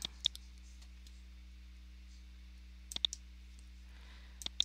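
Computer mouse clicks while changing a time frame setting and applying it on a trading chart, sounding as a few faint, sharp clicks in small clusters near the start, around three seconds and at the end, with no talk.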